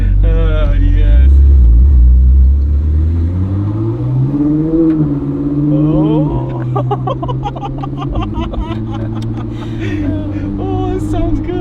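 A Ferrari 458 fitted with a Kline Inconel exhaust revs loudly and close by, its pitch climbing and falling through several blips over a steady deep rumble, while people talk excitedly over it.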